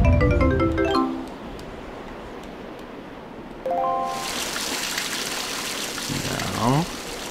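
In the Zelda Wind Waker video game, water is poured, a bright bubbling run of game tones following a short chime, heard alone with no talk.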